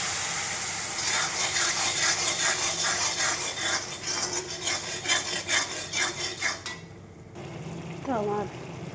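Garlic and black cumin sizzle and scrape in a hot pan while curry is stirred, a steady rasping, clattering fry for most of the stretch that cuts off near the end, followed by a brief voice.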